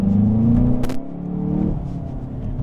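A 2025 VW Jetta GLI accelerates at full throttle, engine drone rising in pitch from inside the cabin before a brief click and shift, then building again as a low rumble; no talk.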